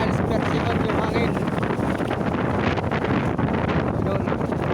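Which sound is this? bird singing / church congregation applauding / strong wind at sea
strong wind at sea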